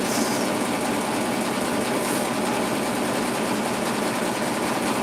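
An embroidery machine stitches a pumpkin lantern design in the hoop, giving a steady, even mechanical buzz and hum heard up close without pause.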